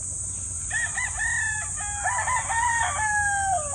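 Rooster crowing and chickens clucking at a poultry yard, several overlapping crows and clucks close by over a steady high background hiss.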